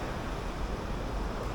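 Ocean surf at Enoshima, an island near Tokyo: a steady, dense wash of breaking waves with no clear individual crashes.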